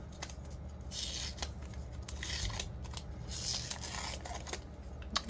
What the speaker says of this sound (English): and then you just start peeling it off.